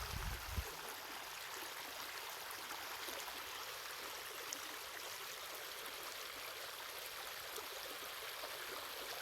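Rainwater streams continuously down a hillside channel after heavy rain, a steady broadband rushing and trickling flow throughout with no voices.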